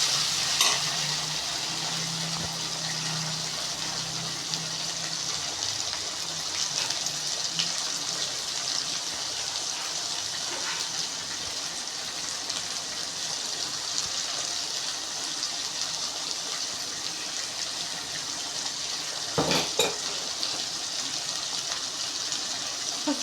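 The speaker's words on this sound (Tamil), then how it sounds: "சீக்கிரமாக வதங்கிறதுக்காக சால்ட்டு போட்டு வதக்குறோம்." Tomatoes sauté with salt in a pan for Tamil karuvadu kulambu, a steady close sizzle and frying hiss running throughout, with occasional stirring scrapes and a brief low hum near the start.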